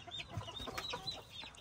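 Chickens clucking softly in their coop at bedtime, a faint, steady murmur of low clucks and chatter.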